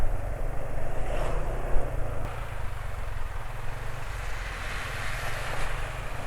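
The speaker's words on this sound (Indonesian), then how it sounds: "Ini olinya sudah bikin suara mesin kasar ya, sudah nggak layak pakai." A rough-running engine with worn-out oil idles with a steady low, uneven rumble and mechanical clatter, close and continuous throughout.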